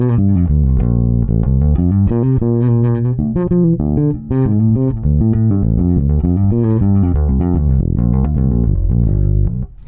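A P bass guitar with flatwound strings and its tone control turned halfway down plays a loud, continuous line of warm, rounded low notes, close and alone without talk.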